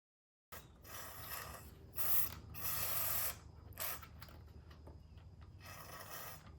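Penetrating oil (PB Blaster) hisses from an aerosol can onto a rusted brake rotor of a 2016 Mazda6, several short bursts of spray of varying length, close and fairly quiet, with no talk.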